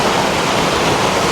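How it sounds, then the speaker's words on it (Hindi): Fast-flowing, very cold mountain stream water in the Pauri Garhwal hills, a dense, continuous loud rush filling the foreground with no breaks. "पानी का बहाव भी दोस्तों यहाँ पर बहुत ज़्यादा तेज़ हो रखा है"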